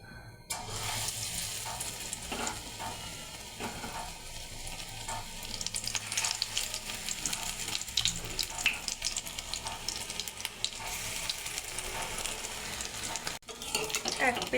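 Spiced eggplant fritters (beguni) in a batter with nigella seeds, onion and coriander bubble and crackle in hot oil, a soft, continuous sizzle with occasional stirring clatter that swells midway.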